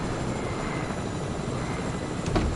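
A helicopter sets down nearby in Fortnite, a steady, dense rotor rumble with a low whirring drone running through the whole brief moment, swelling slightly at the end.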